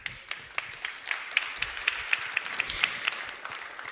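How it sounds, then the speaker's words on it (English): Applause from the audience at a Stockholm +50 side event, with a smattering of individual claps that settles into a loose, fairly regular rhythm of distinct hand claps, moderately close. "Give him an applause."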